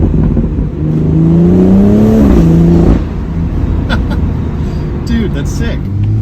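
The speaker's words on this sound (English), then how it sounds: "Oh wow, I can actually hear the turbo." A BMW M240i with a B58 turbocharged inline-six and an aftermarket performance intake revs hard at near full throttle, a loud rising engine note that peaks and then drops back to a steady idle.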